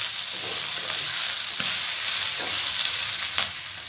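Grated coconut and pirandai stalks fry and get stirred in a hot pan, giving a continuous close sizzle broken by the scrape and clatter of a spoon moving the mixture around.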